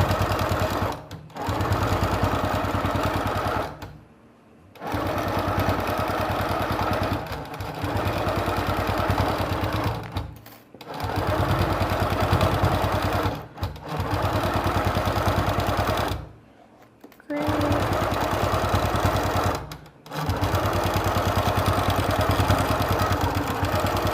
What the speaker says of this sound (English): Make sure you do a reverse stitch so everything stays in spot.